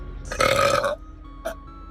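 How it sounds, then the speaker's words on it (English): A girl burps loudly and close, one long throaty belch followed by a short second one, with no talking. "I actually feel like I have to burp again."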